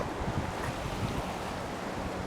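Swift river water rushing through the Lake Barkley tailwater on the Cumberland River, a dense continuous roar mixed with wind buffeting the microphone, with no voices.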